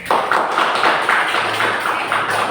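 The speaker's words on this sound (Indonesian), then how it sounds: "Beri aplaus untuk Levi." Audience applause at a school classroom event, a dense, steady patter of many hands clapping close by for the whole stretch, with no talk over it.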